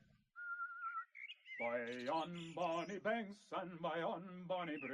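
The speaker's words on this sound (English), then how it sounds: "A fella's been whistling under my window for hours. Hark, there he is again." A man whistles a wavering tune nearby, then shifts into melodic singing or humming with varied pitch.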